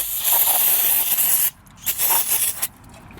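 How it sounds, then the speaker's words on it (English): Brake cleaner sprays onto an oil filter housing during an oil change on a Hyundai Palisade: a loud, close, continuous hiss for about a second and a half, then a few shorter bursts of spray. "I'm going to go ahead and just hit it with some brake cleaner or parts cleaner"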